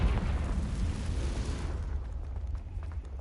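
Confringo fire spell from Hogwarts Legacy, a loud roaring blast that fills the first half then fades into a crackling, rumbling tail.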